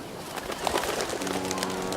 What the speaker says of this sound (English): Oh, that was a good-looking bird.